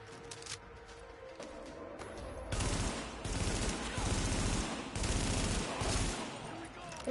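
Rifle gunfire in The Division comes in loud, dense, rapid bursts that swell after the first couple of seconds and hold to the end, with talk in the background.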